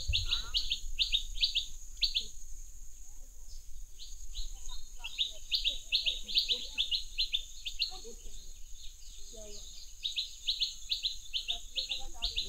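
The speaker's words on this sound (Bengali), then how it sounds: "চলুন একটু এগিয়ে যাই আর পাখির আওয়াজ শুনুন।" Birds sing in a forest near Taki with repeated bright chirps and tweets throughout, fairly close and steady, over a faint low background.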